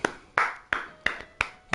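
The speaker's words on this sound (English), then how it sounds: "Clap it up for him." A few slow, evenly spaced claps, about five in under two seconds, sound close and distinct against a quiet background.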